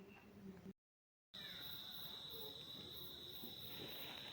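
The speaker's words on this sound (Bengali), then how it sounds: "এখানে না অনেক ঝিঝি পোকা ডাকছে" Crickets chirp at night during a Kali Puja and Diwali evening, a faint continuous high trill that drops out briefly and then resumes steadily.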